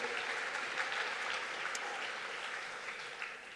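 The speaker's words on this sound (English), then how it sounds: "Give yourselves a round of applause." A hall full of club supporters at the 2011 Jack Dyer Medal awards night applauds: steady, dense clapping from a large crowd that holds at an even level for several seconds with no talk over it.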